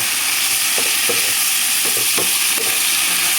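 Cabbage fries in a pan with a loud, dense, continuous sizzle. A few soft stirring knocks sound underneath it.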